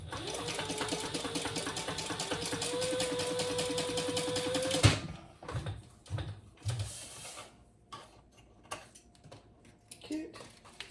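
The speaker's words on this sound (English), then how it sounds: "we're just going to sew up the sides" A sewing machine runs a basting stitch up the sides of a fabric wallet, with a steady fast whir for about five seconds, then stops. Scattered handling clicks and soft thumps follow.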